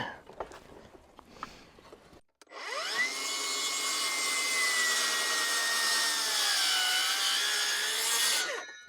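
A power saw trims 2 inches off a wooden fence gate, starting after brief scattered knocks and rustles and then running as a loud, sustained whine with a pitch that drifts.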